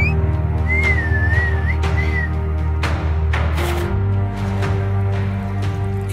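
A person whistles a short wavering tune over a steady low hum, two brief phrases followed by scattered clicks and knocks.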